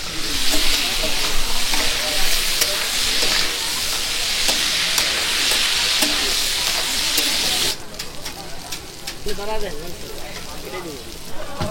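Pieces of cut sea fish frying in mustard oil make a loud, dense sizzle with crackles that drops to a quieter, softer fry partway through, with a voice partly audible over it.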